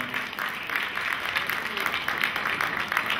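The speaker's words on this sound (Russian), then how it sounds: "Спасибо, ваши аплодисменты" Sustained applause from an audience at a dance championship final ballroom event, a dense, steady wash of clapping hands filling the hall without pause for a few seconds.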